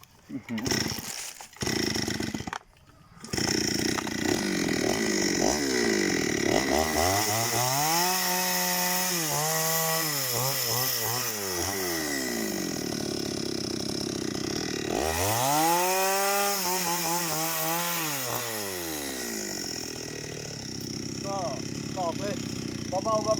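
A chainsaw cuts into a dead, standing jackfruit tree during felling, its engine loud and close as it revs up and down in repeated surges. Abrupt cut-outs near the start suggest the saw stalling.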